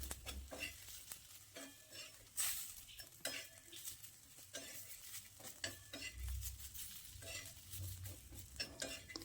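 Coconut and roasted onion masala being stirred and sautéed in a pan for a chana dal dhirde rassa, with a steady soft sizzle, a spoon scraping and clinking against the pan, and occasional louder knocks, close and without talk.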